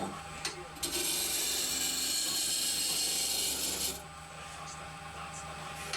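A wood lathe spins a timber cylinder for a two-piece candlestick, with a scraping, rubbing sound for a few seconds as a gouge's back touches the turning wood, then a quieter hum.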